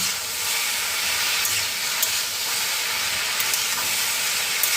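Okra frying in a pan over high flame, a loud steady hiss and sizzle filling the whole stretch, with faint scrapes of stirring and no talking.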